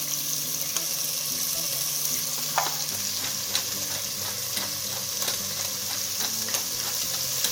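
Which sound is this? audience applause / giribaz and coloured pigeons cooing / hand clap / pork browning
pork browning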